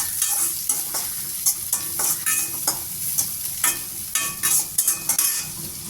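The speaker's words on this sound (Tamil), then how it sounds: "அதையும் இதிலே போட்டு வதக்கிடுங்க எண்ணெயிலேயே" Tamarind and pirandai stir-fry in hot oil, a constant close sizzle broken by repeated scraping strokes of a spoon or spatula against the pan.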